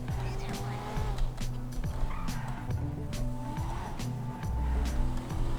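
A car in the video game GTA 5 drives with squealing tires and engine roar, tonal screeches repeating over a steady hum with music-like tones mixed in.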